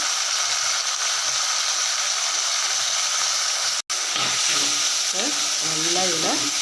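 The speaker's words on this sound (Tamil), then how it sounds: "பூண்டும் அதிலே நல்லா வதங்குது இதில் தக்காளி போட்டுக்குவோம்" A steady, loud sizzle of garlic and tomato sautéing in a pan for Tamil kara kuzhambu, with spoon scrapes and stirring clinks near the end and a voice talking in places.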